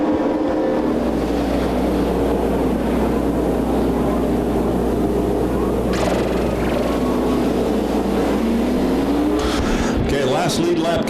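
Race cars roar around the track at a vintage racing legends day, a loud continuous engine drone under steady announcer commentary, with rising engine whines near the end.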